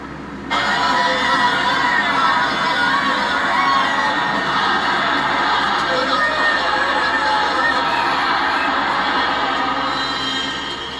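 A soccer game crowd in a movie scene roars, shouts and cheers as a dense, loud, continuous wall of voices that starts abruptly and carries on steadily to the end.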